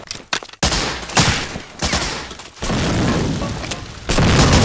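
Rapid bursts of video game gunfire crackle and boom close up, overlapping shots in quick volleys with brief gaps between them.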